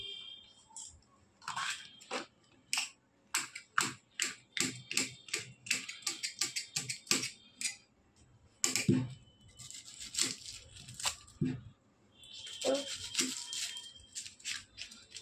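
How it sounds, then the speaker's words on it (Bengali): A knife chops capsicum on a cutting board in quick, close, irregular taps, grouped in bursts with brief pauses and no talking. "তো এখন ক্যাপসিকামটা কাটছি, তো দেখতেই পাচ্ছ, ক্যাপসিকামটা কাটছি।"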